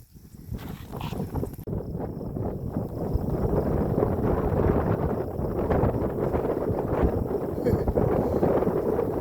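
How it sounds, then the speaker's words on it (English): Strong, unrelenting wind blows across open outdoor ground planted with cheatgrass, a continuous loud roar buffeting the microphone throughout. "This wind is unrelenting."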